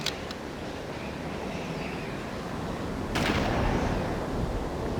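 Two sharp rifle gunshots while hunting caribou in a video game, one at the very start and another about three seconds later, each cracking loudly over a steady wash of background noise.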